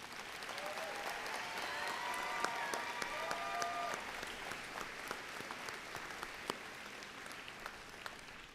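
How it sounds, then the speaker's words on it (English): Sustained applause from a college graduation ceremony crowd, many hands clapping steadily at a moderate distance, with a few scattered whoops and voices rising over the clapping partway through. "Let's give them a round of applause."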